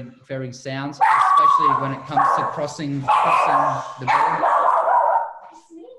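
A dog barks repeatedly at close range, sharp yelps and barks breaking in over someone talking steadily.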